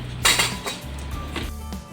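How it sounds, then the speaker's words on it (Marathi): A spoon clinks and scrapes against a bowl while sabudana vada batter is mixed, a few sharp close metallic knocks followed by softer scraping. "हे सगळं मिक्स करून घे घेते आणि मग छान वडे करते"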